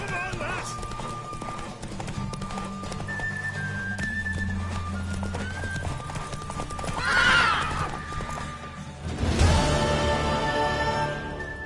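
A mare galloping in a horse race in The Witcher 3: Wild Hunt video game pounds out rapid, close hoofbeats, with a loud whinny near the end, under shouting voices and game music.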